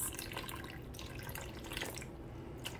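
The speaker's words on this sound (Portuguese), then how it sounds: "Vou acrescentar, então, 200 de água" Water is poured into a bowl of sourdough levain while mixing rustic bread dough, a steady splashing trickle at close range with no talking.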